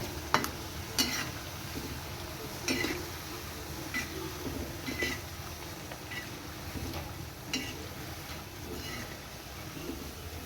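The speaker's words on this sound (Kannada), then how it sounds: "ಸ್ವಲ್ಪ ಫ್ರೈ ಆದ್ರೆ ಸಾಕು, ಕ್ರಿಸ್ಪಿಯಾಗಿರ್ತವೆ." Wheat flour chips fry in oil with a quiet, continuous bubbling sizzle, broken by faint crackles and pops at irregular intervals.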